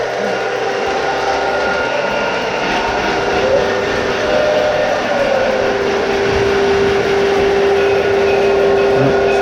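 A Santa Fe model train runs on layout track with a continuous motor whine and rumble, plus a steady tonal hum that strengthens midway as more power is applied, with no voices.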